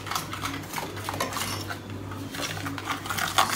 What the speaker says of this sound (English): Then I'm gonna mix these together.